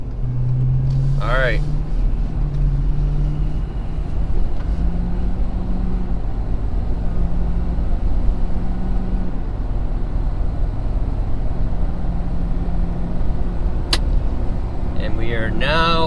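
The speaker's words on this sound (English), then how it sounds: "Once I get out of this turn, I'm gonna give it some throttle." A 2019 Ford Super Duty pickup with the Powerstroke diesel, towing 14,500 lbs, gives a steady droning engine note heard from inside the cab, and someone speaks briefly over it.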